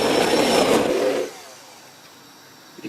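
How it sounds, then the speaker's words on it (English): About a second of steady, busy whisking of Yorkshire pudding batter in a jug, fairly loud and close, then it stops and the room goes quiet. "when it's in the jug, I'm just going to give it another little whisk together"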